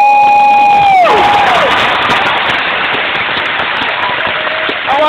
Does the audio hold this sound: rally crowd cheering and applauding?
yes